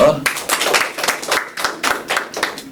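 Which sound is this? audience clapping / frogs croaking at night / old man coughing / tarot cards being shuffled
audience clapping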